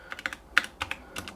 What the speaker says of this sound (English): and typing in the reference John